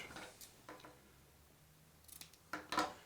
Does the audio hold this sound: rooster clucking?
no